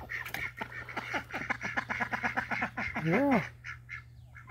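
Mallard ducks, two hens and two drakes, quack in a run of close, repeated calls with one drawn-out nasal call near the end. A steady low hum runs underneath and a person speaks briefly.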